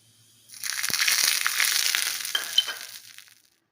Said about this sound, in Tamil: ஸோ எண்ணெய் காயிட்டும், கடுகு மட்டும் தாளிச்சுக்கலாம்.